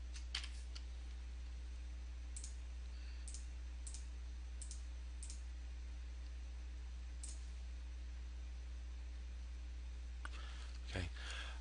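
Scattered, quiet keystrokes on a computer keyboard tap in short irregular bursts over a low steady hum, with a few louder clicks near the end.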